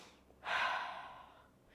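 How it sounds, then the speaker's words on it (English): A single audible inhale through the nose and mouth during a Pilates hip hinge exercise, close and soft, rising quickly then tapering off. "Breathing in."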